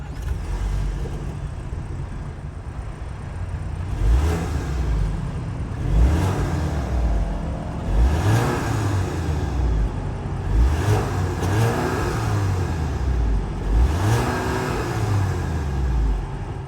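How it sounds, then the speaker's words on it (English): A 2023 Audi A5 Sportback S-Line 45 TFSI with its 2-liter turbo engine, tuned and with exhaust tips, idles and is revved in several repeated blips that rise and fall, loud and close with no talk. "that was the sound of the 2-liter turbo sold by Audi for the 2023 A5 Sportback"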